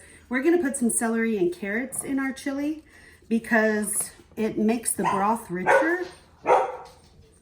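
A dog barks intermittently in a home kitchen while a person keeps talking over it, and the barks stay partly buried under the steady speech.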